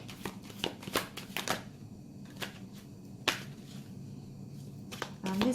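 Tarot cards are shuffled by hand for a reading, giving a run of quick riffling bursts and soft slaps at close range, quiet overall and with no speech.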